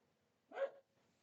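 A single short dog bark, fairly faint and a little distant, stands out once against near silence.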